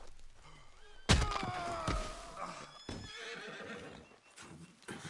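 A horse in the video game Red Dead Redemption 2 whinnies loudly, followed by thuds and hoof clops, then another shorter neigh and more knocking sounds.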